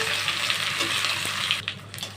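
Black cumin seeds tempering in hot oil for a pointed gourd and prawn mash, a bright continuous sizzle with brief stirring scrapes, close and loud.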